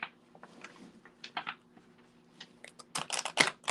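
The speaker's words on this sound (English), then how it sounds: "These cards are not shuffling right today." Tarot cards being shuffled by hand, giving quiet papery riffles and flicks that speed into a denser flurry of crisp card snaps near the end.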